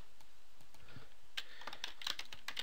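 Typing on a computer keyboard during software data entry, with a few soft scattered clicks early and then a quicker, clearer run of keystrokes near the end, all fairly faint against a steady background hiss.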